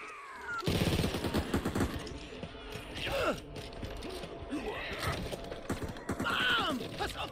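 Gunshots from a weapon in Back 4 Blood, a co-op zombie shooter, crack out in bursts among mechanical clicks and reload rattles, with several sharp reports spread over the span.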